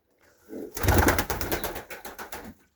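Pigeons in a loft with pigeon chicks, giving a close, soft series of throaty coos lasting about two seconds, alone without talk.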